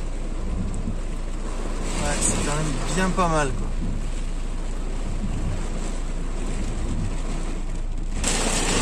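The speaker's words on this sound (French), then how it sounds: "On voit que la pluie se balade latéralement." Rain driven sideways by strong wind pours steadily outdoors, a dense continuous hiss with gusty rumble, while someone speaks briefly over it.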